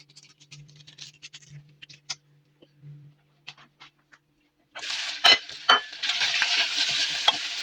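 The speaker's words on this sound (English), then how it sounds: "So we're just going to wait right now for our onions to be caramelized." Onions caramelizing in a pan for a toasted cheese and onion sandwich, quiet scattered clicks and scrapes at first, then a steady bright sizzle that swells up with a couple of sharp utensil knocks, close by and without speech.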